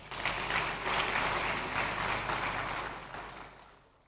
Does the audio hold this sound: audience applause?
yes